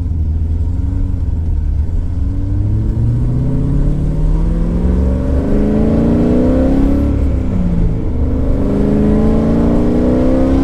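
A Holley Terminator X Max swapped Hi Ram E85 C6 Corvette accelerates hard at full throttle, its loud engine climbing steadily in pitch through the gears toward 7500+ rpm shifts, heard from inside and without talk.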